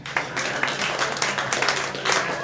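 A comedy club audience claps in a loose, moderately faint round of applause, scattered individual claps overlapping throughout.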